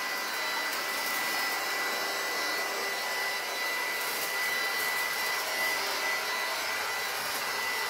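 A heat gun blows steadily over a shrink wrap bag around a large Easter basket, a continuous airy roar that holds level and close for the whole stretch without talk.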